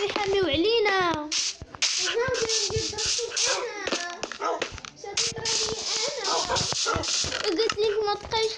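Dogs in the Minecraft video game yip and whimper in quick repeated bursts, mixed with someone talking throughout and other game sounds close up.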